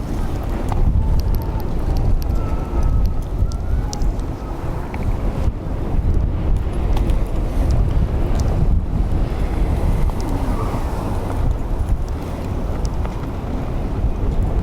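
Heavy wind buffets a microphone beside an outdoor youth soccer field during a boys' match, a loud, constant roaring rumble with gusty swells and faint voices mixed in.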